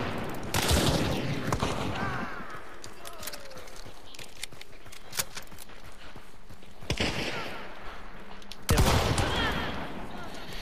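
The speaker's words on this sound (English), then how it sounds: "That was like a 20 meter Romero shot." Romero shotgun fired in the video game Hunt: Showdown, several loud booming blasts with the biggest near the start and end, over a rattling, noisy firefight background.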